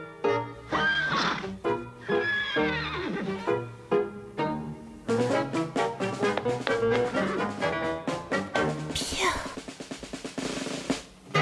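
Several horses whinny and neigh in a cartoon scene, the calls loud and close, rising and falling in bursts, with short stretches of voices in between.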